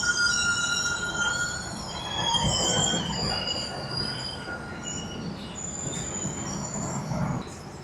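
Big Boy 4014, a huge 1950s-era steam locomotive, rolls past with its train cars, steel wheels squealing in sustained high whines over a steady low rumble, loud and close throughout with no talk.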